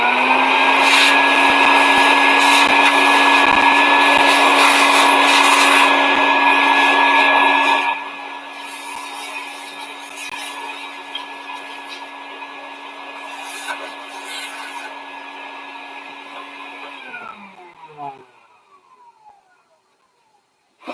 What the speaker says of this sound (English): Let's get the vacuum and clean that up real quick.